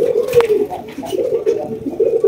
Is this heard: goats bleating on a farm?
no